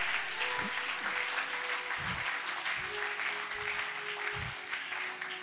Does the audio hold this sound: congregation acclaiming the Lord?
yes